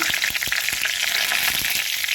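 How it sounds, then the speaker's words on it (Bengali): Hot oil, left from frying vegetables, sizzles steadily as a bay leaf is added, a fizzy hiss with a few soft crackles and pops, close and fairly quiet. "ওই তেলের মধ্যে আমি একটা তেজপাতা দিয়ে"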